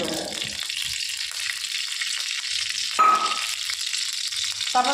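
Oil crackling and sizzling in a kadai on a home stove for a Bengali dumur posto, a steady broadband hiss with a few brief bursts near the middle, close and fairly loud, no talking.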